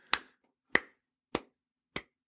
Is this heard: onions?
no